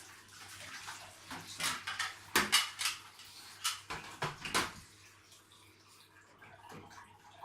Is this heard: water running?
yes